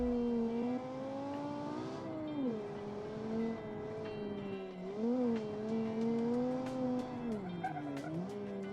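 A tuned stock car in a racing video game, its loud engine droning steadily, then dipping and rising through gear changes and throttle lifts, with brief tire chirps toward the end and no talking.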